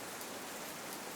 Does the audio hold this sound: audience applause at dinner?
no